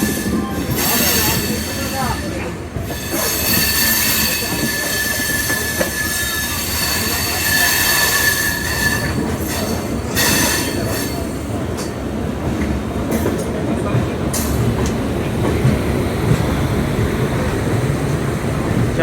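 A passenger train pulls into Tirupati station, a loud continuous rumble of wagons with squealing wheels and rhythmic clatter over the rails on the platform, and faint voices now and then.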